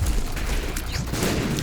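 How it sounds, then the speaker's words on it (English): Booming explosions in The Binding of Isaac game, a dense, sustained roar of low blasts and crashing bursts that stay loud and continuous throughout. "Ooh, the explosions. That almost got me."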